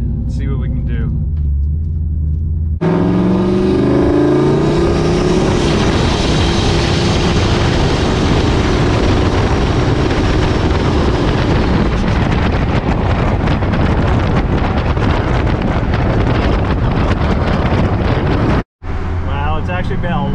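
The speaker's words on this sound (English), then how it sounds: "It's nice to hear a little bit of boost again." A turbocharged GMC truck accelerates under boost, its engine a loud, steady roar with rushing wind noise heard from inside the cab, running continuously before cutting off briefly near the end.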